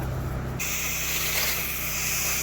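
A pressure washer sprays water to rinse down a house exterior, starting after a brief pause as a steady, loud broadband hiss with a constant low pump hum underneath, continuous and close with no talking.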